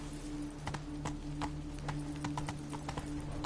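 Hooves of Roach, the horse in The Witcher 3: Blood and Wine, clip-clopping in an even rhythm of distinct close strikes over a constant low hum.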